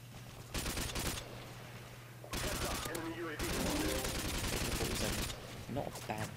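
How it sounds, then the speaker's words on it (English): Video game gunfire from a gun with heavy recoil: sustained loud, rapid bursts in several stretches with short pauses between them, with a faint steady hum and a voice talking underneath. "Not a bad gun, but it's got a bit too much recoil."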